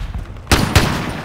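Two sharp gunshots from Call of Duty Modern Warfare, about a quarter second apart, loud and close against a low background rumble of game ambience.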